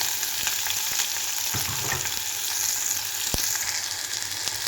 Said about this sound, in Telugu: వేగాక కరివేపాకు, తర్వాత ఆనియన్స్ వేయాలండి.